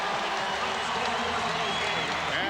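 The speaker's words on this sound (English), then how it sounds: "Standing ovation for the Dream Team as they have defeated Brazil 109-68" A basketball crowd at Gund Arena gives the Dream Team a standing ovation after their win over Brazil. The arena fills with a dense, continuous roar of cheering and clapping, and a commentator talks over it.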